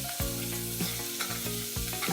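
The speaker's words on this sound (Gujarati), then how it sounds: "લસણની ચટણી 1 ચમચી જેટલી આપણે નાખી." Garlic chutney sizzling in hot oil in a pan for a vegetable curry, a loud close frying hiss broken by repeated stirring scrapes at a roughly even rhythm, with no voices.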